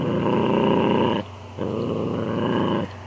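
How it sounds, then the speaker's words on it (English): A puppy growls steadily over a bone in a yard, a close, continuous rumbling growl that pauses briefly twice before resuming. "she's growling"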